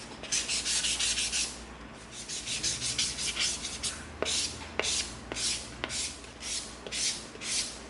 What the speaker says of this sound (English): Now we're gonna come in with our 320 sanding stick.